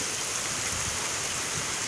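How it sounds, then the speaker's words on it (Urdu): Unseasonal rain pours down steadily outdoors, a dense, even hiss of drops on surfaces that fills the whole moment at close range and loud level, with no voices. "یہاں بارش ہو رہی ہے، اچانک سے کوئی موسم نہیں تھا"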